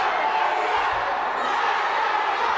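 An angry crowd at a Pro Wrestling 225 show roars and shouts without a break, a dense, loud wall of voices where no single speaker stands out.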